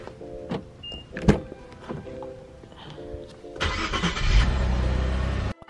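A car's power windows whir up near and clear, followed by the engine cranking and starting into a steady idle, with a few clicks and faint background sounds before it; no talk.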